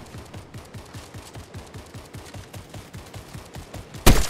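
Rapid automatic gunfire in Fortnite, a steady burst of evenly spaced shots for about four seconds, ending in a sharp, louder crack as a headshot lands.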